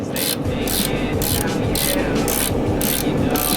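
A hand ratchet works bolts loose from the tow hook on a Toyota MX73 Cressida, giving a loud, steady run of rapid clicking strokes close to the microphone, each stroke evenly spaced with no speech.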